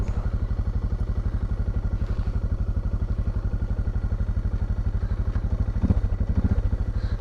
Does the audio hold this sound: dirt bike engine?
yes